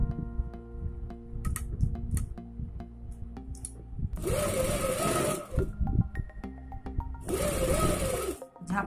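A sewing machine runs a suit's shoulder seam in two loud, close, rapid-stitching bursts of a few seconds each, with light ticking and fabric handling between them.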